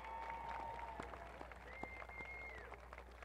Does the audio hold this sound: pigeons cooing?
no